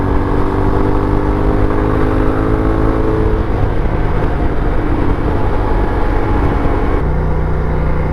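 A Honda NT1100 motorcycle engine pulls hard under acceleration, a loud continuous drone with slowly climbing tones and steady road and wind rush, heard up close with no talking.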